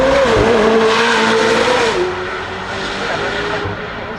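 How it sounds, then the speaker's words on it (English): Hypercar screaming at high revs as it accelerates through a track chicane, a loud sustained engine note dipping and climbing with gear changes, close and dominant with a faint voice underneath. "so ultra fast as it navigates through the chicane that's placed there perfectly to slow these cars down"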